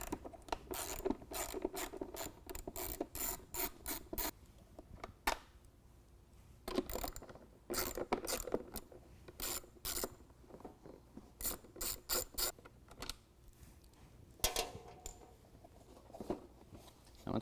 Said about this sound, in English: we're going to remove the 2 8mm nuts that are holding our air inlet to